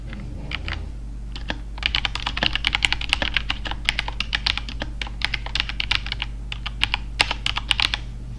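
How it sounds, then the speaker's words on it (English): A loud computer keyboard clatters with rapid, uneven keystrokes during a live stream, close and dry over a steady low electrical hum, with no speech. "my keyboard makes a lot of sound, I know"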